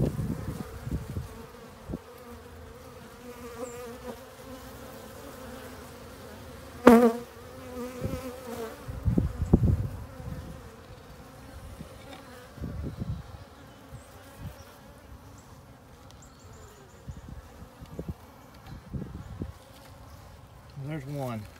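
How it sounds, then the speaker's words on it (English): Honey bees swarm close around a beekeeper's head while pollen blocks are set in a hive, a steady near buzz with louder passes and a few brief knocks and handling noises. "I have got bees swarming my head."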